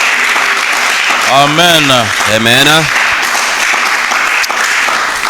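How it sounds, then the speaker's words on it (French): A church congregation claps steadily in a dense, continuous wash of applause throughout, with voices calling out over it. "Nous allons applaudir très fort pour ce We're Dieu."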